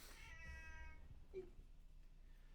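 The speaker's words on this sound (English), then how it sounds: "Sorry, my cat is" A house cat gives a single close, drawn-out meow asking for attention, followed by a faint short chirp over a quiet background hum.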